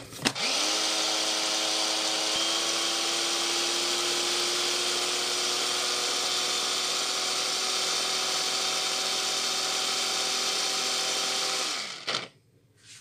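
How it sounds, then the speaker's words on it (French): Modest-powered electric blender grinding a pumpkin seed mixture seasoned with white pepper: a steady, loud motor whine that runs continuously for about twelve seconds, then winds down and stops, with no speech. "Puis je vais mixer."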